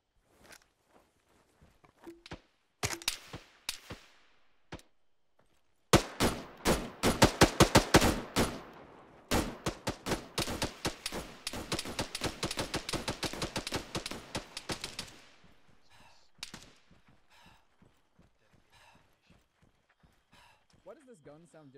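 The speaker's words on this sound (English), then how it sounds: "Why does this gun sound different when I fire it single fire than when I go full auto?" Gunfire in the military shooter Arma 3: a few spaced single shots, then sustained bursts of full-auto fire crackling loud and close, tapering into scattered shots with voices talking over parts of it.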